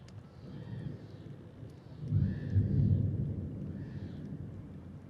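Distant rumbling thunder from a full lightning storm over the Mogollon Rim near Bear Canyon Lake, a low rolling swell that builds and fades with steady wind and rain-like hiss beneath, no talk.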